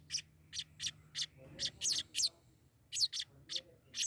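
Baby birds chirp in a rapid series of short, high, bright calls repeating in quick bursts, close and clear with no talking over them.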